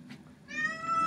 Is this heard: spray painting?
no